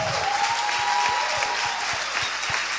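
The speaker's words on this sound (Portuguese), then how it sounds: "uma salva de palmas para essa galera." A crowd at a church retreat gathering applauding steadily and loudly, dense clapping filling the whole stretch with no pauses.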